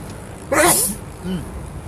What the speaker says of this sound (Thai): ขออนุญาตจามก่อนนะ